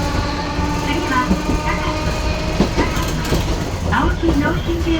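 A train running with a loud, steady rumble and rhythmic clatter from the rails, heard from inside the car, while a recorded announcement plays over it.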